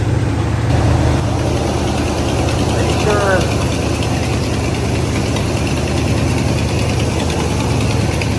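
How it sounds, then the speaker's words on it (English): A 1984 Chevrolet Suburban V8 idling high with its choke not hooked up, a steady loud rumbling drone with close engine vibration, while someone speaks briefly over it. "We're idling kind of high."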